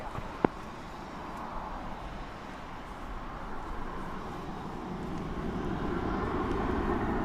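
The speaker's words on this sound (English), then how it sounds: "we've got a plane taking off here. I can hear it." A jet airliner taking off from runway 18 Left at Dallas/Fort Worth Airport in stormy weather, a steady broad engine roar heard from a distance that swells slowly over the clip, with a sharp click near the start.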